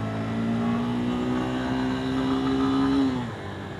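A car's engine drones steadily, heard from a motorcycle on a winding road, its tone rising slightly and then dropping away as it passes.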